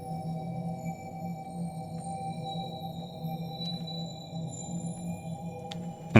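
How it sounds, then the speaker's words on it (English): A Sakura string-simulation synth preset in FL Studio plays sustained, layered harmonic tones at an even level, with a faint high tone slowly gliding downward and a brief brighter burst at the very end. "this is a Sakura, which is a synth that is built into FL"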